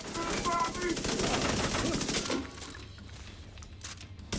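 A loud, rapid stream of SMG fire in a first-person shooter game rattles continuously for about two seconds, then stops, leaving quieter game ambience with faint clicks; a voice talks partly over the shooting.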